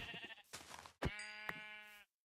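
Sheep in the Minecraft video game bleat two or three times in quick succession, clear and close, with short pauses between calls and silence at the end.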